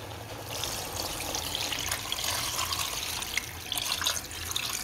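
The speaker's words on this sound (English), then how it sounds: "It's time to add water." Water pours and trickles steadily into a cooking pot of meat for a few seconds, a close, continuous splashing with small bubbly fluctuations and no voices.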